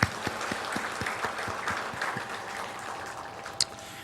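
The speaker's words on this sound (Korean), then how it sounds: "박수로 우리 축복하겠습니다." A church congregation claps during a Sunday service, fairly faint and loose. A few distinct claps stand out early before the sound thins into a softer, scattered patter.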